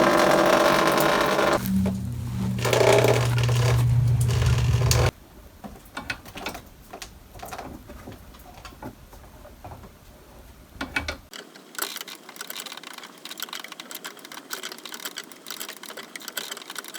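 A copper water line with pinhole leaks is cut. A loud droning hum at the start gives way to a rhythmic series of scraping, ratcheting clicks, close and moderately loud, with no speech.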